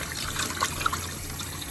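Tap water runs steadily into a sink as salmon fillets are rinsed after a vinegar wash, a constant close trickle and splash with a few brief drips, no talking.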